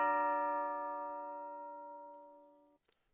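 An electronic doorbell chime from a Roblox Studio trick-or-treat system rings a single clean tone that fades slowly over about three seconds, followed by a faint click.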